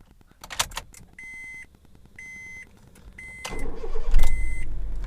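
A Honda car chimes through a series of electronic welcome beeps, then the engine cranks and catches, settling into a close, steady idle.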